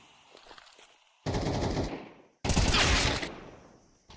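SMG fire from Counter-Strike in two loud, sustained automatic bursts, each lasting about a second, close and dominant with no voices.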